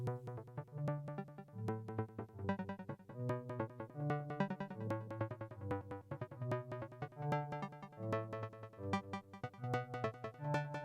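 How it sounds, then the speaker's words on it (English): A DX7 synthesizer bass line plays a steady, fast repeating sequence of plucky notes with bright harmonics, loud and alone with no voices. "Now this is a patch from the DX7V again, called bass sequence"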